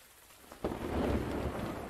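Thunderstorm ambience in the video game Zed Zone: a steady hiss of rain erupts into a deep, loud rumble of thunder that swells and lingers close by.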